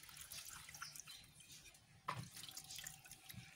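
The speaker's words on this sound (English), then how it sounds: "Then you wash it." Water running over a small two-stroke Tiger generator part as it is washed, a steady tap-like splash and trickle with a brief louder splash midway, close and alone.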